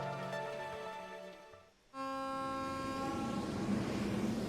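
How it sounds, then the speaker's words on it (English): A train pulls into Heimdall Central Station in the video game Trails into Reverie, a loud steady rumble with sustained horn-like tones that fade, drop out briefly, then return as a fuller rolling roar. "Our train."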